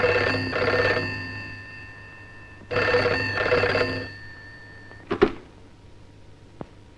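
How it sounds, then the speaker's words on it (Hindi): Old-fashioned telephone bell ringing in two long bursts indoors in a 1950s Hindi film scene, loud and alone, followed by a sharp handling clatter and faint movement. "देखो तो किसका फोन है।"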